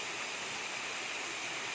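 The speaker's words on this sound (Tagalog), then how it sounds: "nung papasok na kami dito sa loob, dito sa may Secret Falls" A waterfall at Secret Falls in Doña Remedios Trinidad, Bulacan, pours in a steady, dense hiss and roar that fills the short moment evenly with no voices.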